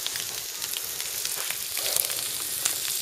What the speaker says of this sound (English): It's Paul cooking the eggs badly.